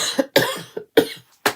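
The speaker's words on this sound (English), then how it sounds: "I got that stupid morning cough" Several harsh morning coughs from an adult, in a series of four or five close, loud bursts separated by short pauses, with no other sound between them.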